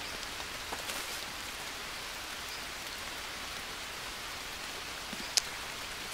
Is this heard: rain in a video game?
yes